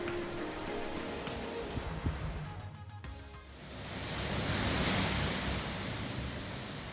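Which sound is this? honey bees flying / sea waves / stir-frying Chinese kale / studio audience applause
sea waves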